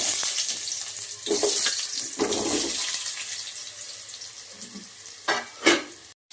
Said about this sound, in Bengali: প্রথমে আমি সাদা তেল দিয়ে আলুটা ভেজে নেব কড়াইতে।